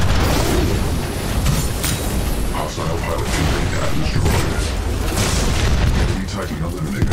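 A Titan blows up during an Attrition match in Titanfall 2, heavy booming blasts and mechanical crunching rolling continuously over several seconds, loud and dense, with radio-style voice callouts layered over the chaos.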